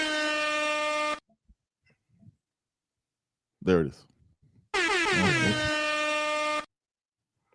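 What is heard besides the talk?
air horn sound effect played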